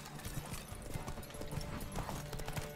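A horse's hooves trot at a steady rhythm while riding in The Witcher 3 video game, giving quiet, even clip-clop beats over soft ambient game sound.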